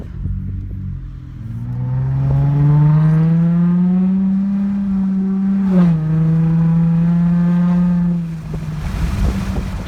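An Acura Type S engine revs up and holds a deep, rising drone from the exhaust, dips briefly, then drops back to a rumbling idle with wind noise.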